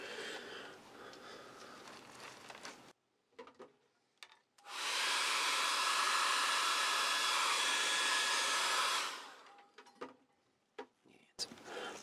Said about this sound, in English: And one more time with the hairdryer.